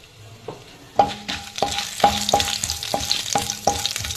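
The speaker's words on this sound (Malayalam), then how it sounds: "ഇതൊന്ന് വഴറ്റിയെടുക്കാം" Whole garam masala and fennel seeds sauté in a pan with a soft sizzle, punctuated by sharp, regular spoon knocks and scrapes against the pan, close up.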